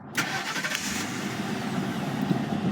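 A Ford Crown Victoria with a push-button start conversion cranks briefly and catches, then settles into a steady close idle inside the car, no talking.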